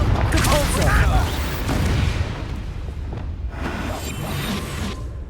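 A booming Confringo spell blast in the Hogwarts Legacy video game, with a whooshing burst and rumbling explosion up front, then a lower rumble as the action continues, with voices talking over it.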